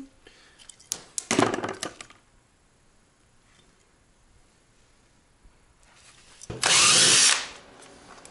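A power tool drives a plug into a damaged Smart Fortwo lithium EV battery, with a short burst of close whirring and then a louder, steadier spin later, ticking and handling noises in between.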